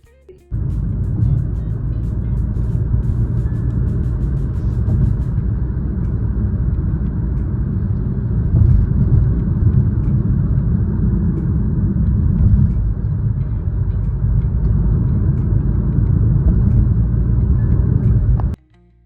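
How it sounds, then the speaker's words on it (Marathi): Steady low rumble of car and road noise from inside a moving car, a continuous, fairly loud drone with no talk, starting and stopping abruptly. "जो गाडीचा आवाज आहे किंवा रस्त्यांचा आवाज आहे"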